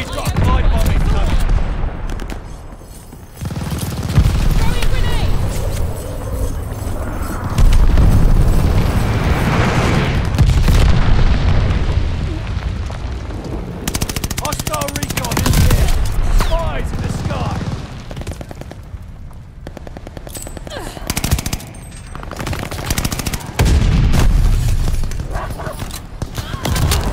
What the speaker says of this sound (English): Enemy's got glide bombing coming.